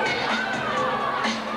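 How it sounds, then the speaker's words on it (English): A wrestling crowd in East Boston cheers and shouts, a dense, sustained roar of many voices filling the hall with a few louder individual yells rising above it. "And the crowd here in East Boston don't like Sbraccia."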